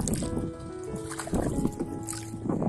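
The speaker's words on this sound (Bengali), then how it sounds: "মাঝের এমন বৈঠা টানের সাথে পানির ছলাৎ ছলাৎ শব্দ মুগ্ধ করার মতোই।" A wooden oar strokes water as a rowboat crosses a small river, making soft splashes and sloshing gurgles in an uneven rhythm, close by, with faint background noise.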